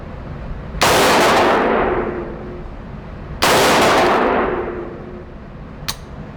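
A Palmetto State Armory AR-15 rifle firing at a range, two loud sharp shots spaced a few seconds apart, each trailing off in a long echoing decay, then a faint metallic click.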